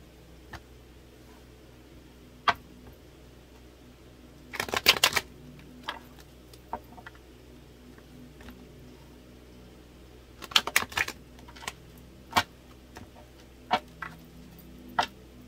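Tarot cards riffle in two short rapid bursts, surrounded by scattered soft ticks and taps in an otherwise quiet room.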